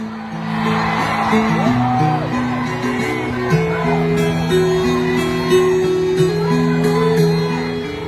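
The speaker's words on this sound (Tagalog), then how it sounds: "Isang malaking sigaw!" A large crowd at a Duterte rally in Davao shouts and cheers loudly, with a sustained roar of voices and music-like tones underneath.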